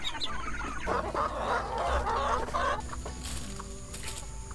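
Several chickens cluck steadily at close range, a busy overlapping chorus with no one speaking.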